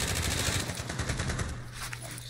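Rapid automatic gunfire in Call of Duty Warzone, loud, close and continuous bursts of shots over about two seconds, with little else audible.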